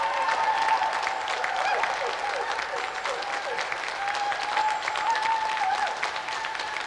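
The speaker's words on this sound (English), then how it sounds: "let's have another round of applause for Carl Roberts and Reza Abdulali." A crowd claps and cheers continuously in sustained applause, dense and even throughout, with no pauses.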